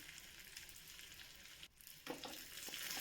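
Curry leaves frying in hot oil for sambhar, a bright crackling sizzle that drops briefly as they go in and then flares up again, close and continuous.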